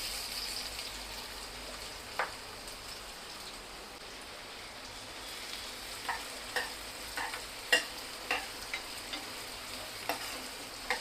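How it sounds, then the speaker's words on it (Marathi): Onions fry in two spoons of oil for a kubani murgi bhaji, giving a soft, steady sizzle that later carries a run of sharp taps and clinks from a spoon against the pan. "तेल घ्यायचं 2 स्पून. आता कांदे घालायचे."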